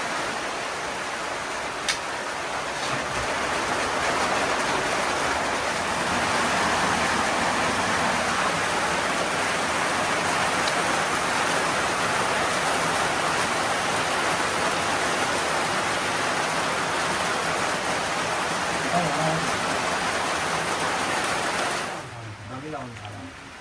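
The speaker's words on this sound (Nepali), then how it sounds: "पानी परेको नि यहाँ" Steady rain falls on a coffee farm in Ilam, Nepal, a dense continuous hiss that stays loud and even for over twenty seconds before cutting off near the end.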